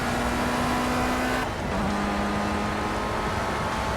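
A race car in Project CARS, an FR Euro Trophy round at Donington Park, drones steadily under sustained acceleration. Its engine tone holds loud and close, then drops briefly in pitch midway before climbing on again.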